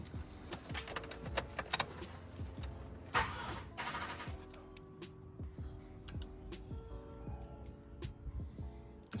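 Keys jangling and an attempt to start a 2003 Silverado extended cab truck that won't turn on: close metallic clinks and clicks, a short cranking burst around the middle, then quieter scattered clicks.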